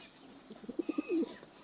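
Breeder pigeons in a coop give a short, soft run of low coos, several quick pulses ending in a drawn-out rolling coo, close but quiet with no talking.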